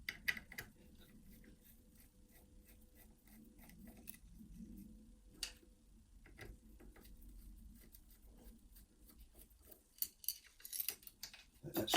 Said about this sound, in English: Let me just lock this back up before I take the cover off it.